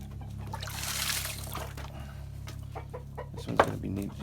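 Farmyard chickens cluck and chatter, some close and some farther off, over a steady low hum with scattered small knocks and splashes.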